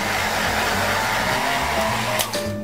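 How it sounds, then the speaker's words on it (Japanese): A hair dryer blowing steadily to dry and add air to styled hair, a loud continuous close whir that holds for the whole stretch with a slight shift near the end. "でこの時もちょっとこう空気含ませる感じで乾かしていきます。"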